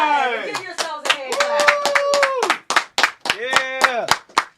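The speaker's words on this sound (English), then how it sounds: "Give yourselves a hand" Audience members at a poetry talk show clap their hands in a loud, quick series of sharp claps, overlapping a strong voice that chants and talks through them.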